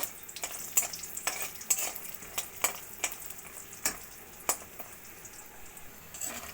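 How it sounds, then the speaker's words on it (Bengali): Lentil dumplings (bori) fry in oil in a wok, a soft, steady sizzle punctuated by repeated light scraping and clicking stirs, close but fairly quiet, with no speech. "এবার কড়াইতে তেল দিয়ে কয়েকটা বড়ি আমি ভেজে নেব।"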